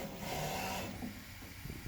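An I3 Plus 3D printer runs with a steady mechanical whir and buzz while pushing out filament, loud and close, easing into quieter, irregular motor sounds partway through.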